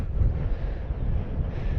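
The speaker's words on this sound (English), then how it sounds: "it's a wee bit windy up here" Strong wind buffeting the microphone, a continuous low rumbling roar with no other sounds.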